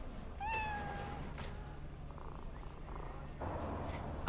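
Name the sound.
cat meowing and purring in video game Cyberpunk 2077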